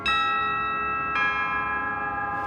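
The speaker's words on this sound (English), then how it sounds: "The bell invites me." A deep bell tolls twice, each stroke ringing out long and sustained with rich overtones, the second strike landing about a second after the first, loud and alone.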